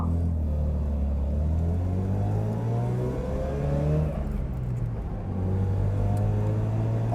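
Engine of a 1980 Mazda RX7 with a 20k-mile rotary motor idling on choke as it warms up, a steady low hum with a slight dip and rise in pitch midway, heard alone.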